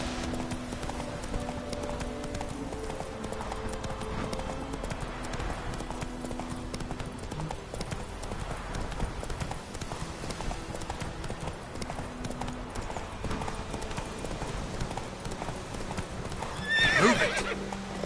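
Roach, the horse in The Witcher 3, gallops with rapid hoofbeats over in-game music, then lets out a loud neigh near the end.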